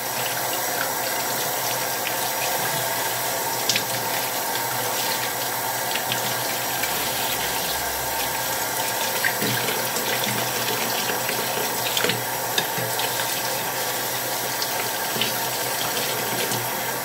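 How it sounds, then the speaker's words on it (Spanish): Water runs steadily from a kitchen tap onto broccoli being rinsed under it, a close, continuous broadband hiss with small splashes and clatters as the florets are turned in the stream, with no talking. "Yo cojo la brócoli. Y la enjuago así."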